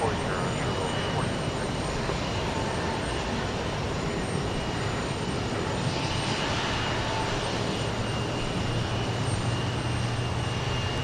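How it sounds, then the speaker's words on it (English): An Embraer 145 regional jet on its takeoff roll at Houston Intercontinental, a steady broadband engine roar that holds for the whole stretch, with faint talk over it. "There's another Embraer 145."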